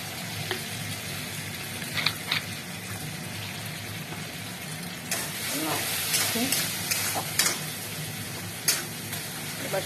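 Chili chicken sizzling in a pan after chili sauce goes in, a steady loud frying hiss broken by scraping stirs and occasional clinks, close up with no talking.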